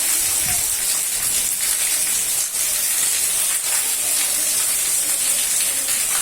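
Heavy Sunday rain falls on a Punjabi village, a dense, steady roar of water striking surfaces that runs unbroken and close throughout, with no voices heard.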